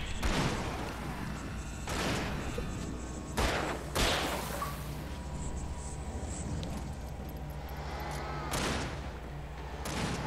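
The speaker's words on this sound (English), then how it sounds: "That's why I hate flashbangs. They're so slow to actually use because it's just like you gotta wait for them to blow up." Flashbang grenades bursting in the Alan Wake game, several sharp broadband blasts spaced a few seconds apart over a steady rumbling background.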